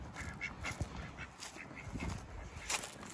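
A duck quacks repeatedly in quick, uneven bursts beside a storm shelter in Oklahoma. The quacks are fairly close but quiet, with no talking over them.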